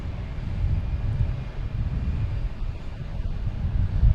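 A Delta airliner at Boston Logan Airport, a loud steady jet roar with wind buffeting the microphone, alone without talk.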